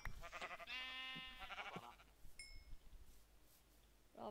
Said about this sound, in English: Saam, there are sheep everywhere I am